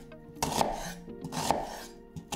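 A yellow onion being finely chopped with a knife on a board for meatball seasoning, two or three rasping cuts spaced about a second apart, close and moderately loud with no talking.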